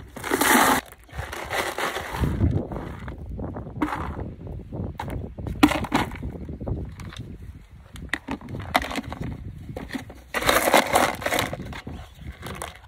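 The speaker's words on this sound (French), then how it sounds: "Je vais mettre un petit peu de gravier, je vais faire du bruit, pour drainer le fond de mon jardin." Gravel is poured into a small planter as a drainage layer, with a steady crunching, rattling rush, close by, surging louder at the start and near the end.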